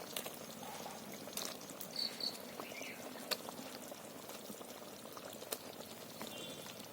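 Mackerel pieces are dropped into a thick simmering masala gravy, producing a faint, steady bubbling and soft splashing with a few brief clicks against the pan.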